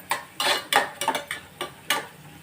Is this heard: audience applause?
no